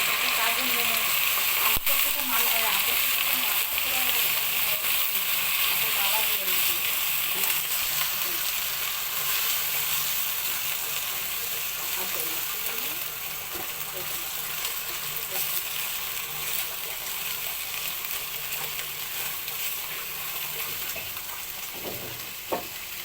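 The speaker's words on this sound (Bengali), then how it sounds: "আমি বাদাম বাটা পেঁয়াজ বাটা আর আদা রসুনের বাটা আমি সবটা একসাথে দিয়ে এটাকে নেড়ে ছেড়ে মিশিয়ে নেব" Onion paste, nut paste and ginger-garlic paste fry and get stirred in a pan, making a steady close hiss and sizzle with occasional scraping strokes that ease slightly toward the end.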